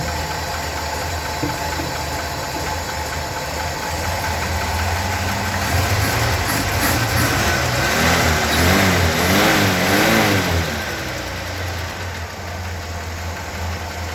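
A 1954 Chevy 3100 truck's 235 cubic-inch straight-six with dual carbs runs steadily close by, swelling into a rev around the middle before settling back to a smooth idle, with no one speaking.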